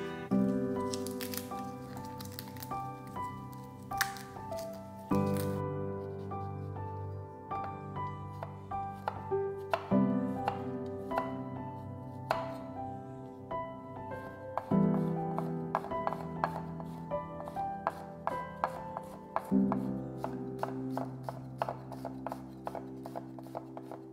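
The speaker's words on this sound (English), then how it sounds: "Two pieces of garlic, finely chopped." A knife finely chops garlic on a cutting board with quick, crisp taps in rapid runs, fairly close and moderately quiet, under a steady musical backdrop.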